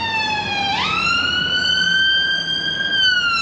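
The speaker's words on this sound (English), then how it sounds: "The second ambulance we've seen." An ambulance siren sounds on the Blackpool seafront promenade, a loud, close, sustained wail that rises sharply in pitch and then holds steady.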